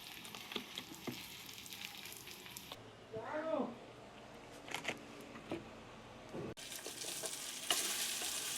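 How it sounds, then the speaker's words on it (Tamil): Onions, green chillies, dried chillies, tomato and curry leaves sautéing in a pan, a soft sizzle with intermittent stirring scrapes; a faint voice-like tone briefly rises midway, and the level shifts between cuts. "சரி, இப்போ எல்லாம் நல்லா வதங்கட்டும்."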